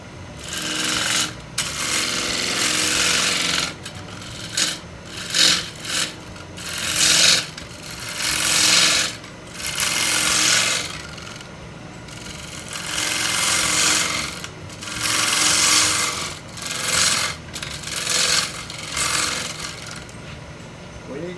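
Rough, rhythmic rasping of a hand tool shaping wood into a tenon, close and steady in long strokes with brief breaks between passes.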